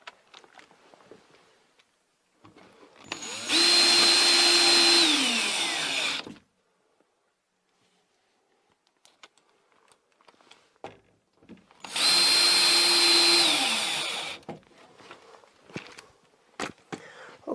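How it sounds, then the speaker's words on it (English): A power drill drives screws into a circuit breaker load center panel in two separate bursts, each a few seconds long, with the whine rising and then falling as the screw seats. Quiet handling noises fill the gaps between them. "And now I'm going to put 2 more screws down here."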